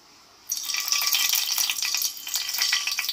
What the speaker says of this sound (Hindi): सबसे पहले हम लोग डालेंगे इसके अंदर लौंग